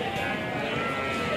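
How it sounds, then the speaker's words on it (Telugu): Sheep at a busy sheep and goat market in Jiyaguda, Hyderabad give a dense, continuous bleat with crowd murmur mixed in across the short stretch. "హైదరాబాద్ జియాగూడలో జరిగే గొర్రెల మేకల మండీలో"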